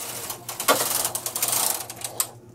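A Singer knitting machine carriage slides across the needle bed with a dense mechanical clatter and ratcheting clicks, close and steady for about two seconds, then stops abruptly.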